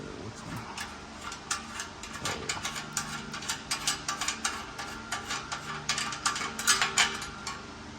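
A ratchet wrench tightens bolts on an air tank bracket under a C3500 truck, giving rapid clicking bursts of ratcheting, close and moderately loud, with no talking.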